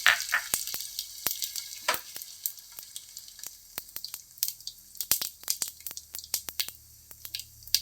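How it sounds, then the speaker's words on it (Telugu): Vegetables dropped into hot oil for vegetable bagara rice give a quiet, steady sizzle broken by sharp crackles and pops scattered throughout, with no talking. "ఇప్పుడు ఆయిల్ హీట్ ఎక్కింది కదా, ఇంకా వేసేసుకున్నామండి"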